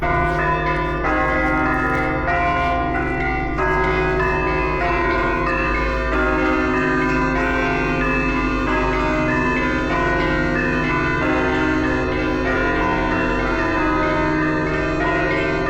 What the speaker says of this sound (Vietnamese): Vừa kịp lúc chuông nhà thờ ngân lên luôn.